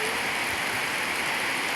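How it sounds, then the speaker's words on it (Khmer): Heavy rain pours down over countryside rice fields in a dense, loud, continuous roar of hissing drops with no pauses. "ភ្លៀងធ្លាក់ខ្លាំង"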